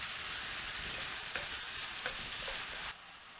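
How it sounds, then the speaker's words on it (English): Ground beef fries in a hot pan with a loud, close, continuous sizzle, a couple of brief stirring scrapes, before the hiss suddenly drops lower near the end. "the ground beef is make sure you fry it well"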